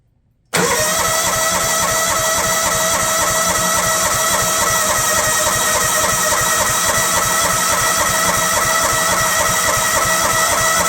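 An old DR walk-behind mower engine, left sitting for years, catches after a brief silence and runs on idle with a loud, steady, rapidly pulsing close-up chug that holds unchanged to the end.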